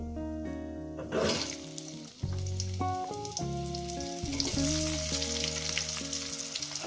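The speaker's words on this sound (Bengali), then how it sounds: "এক সাইড ভাজা হয়ে গেছে। দিয়ে দেবো আলু," Potato pieces frying in hot oil, cooked alongside a katla fish curry, make a loud, steady sizzle that runs unbroken throughout beneath background music.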